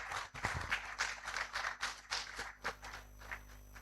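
Audience clapping to welcome a speaker at an academic conference honouring a professor, uneven bursts of hand claps with some heavier thumps mixed in, fairly close and irregular.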